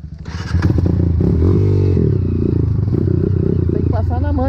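A dirt motorcycle revs hard and close while bouncing over a rough, holey trail, its engine roaring and pulsing with clattering jolts, and a voice talks over the noise.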